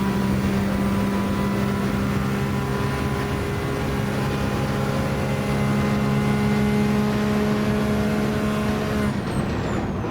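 A Gran Turismo 7 hypercar engine accelerating hard, a loud sustained high-pitched drone that climbs steadily, then cuts off sharply near the end.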